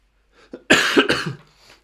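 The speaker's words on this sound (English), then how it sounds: "I apologise for the coughing." A few sharp, raspy coughs in quick succession, close and fairly loud, with a small throat-clearing sound before them.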